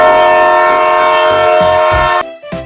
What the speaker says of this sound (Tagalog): Ayan yung train!